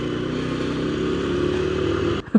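A motorcycle engine runs steadily nearby at a constant idle-like rumble, then cuts off abruptly near the end, followed by a single short clunk.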